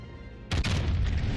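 Battleship main guns fire in the naval game World of Warships Legends, a sudden loud boom that cuts in mid-clip and leaves a deep, rumbling roar afterward.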